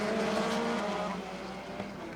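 Midget race cars roar around Rockford Speedway during a heat race, a loud, dense engine drone with layered revving tones that fades slightly as the pack moves off.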